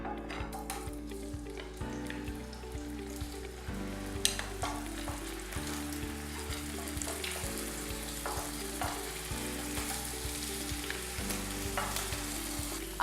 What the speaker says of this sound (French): Nous pouvons cuire les morceaux de viande.